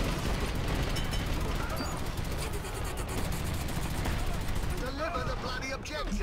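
Mounted machine gun firing in the shooter video game Dirty Bomb, a dense sustained burst of rapid shots, with a voice speaking near the end.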